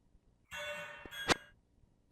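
Plate dinks from the video game Petscop: a sustained ringing metallic chime with a brief tap, then a sharper, brighter clink that rings out and decays, heard alone.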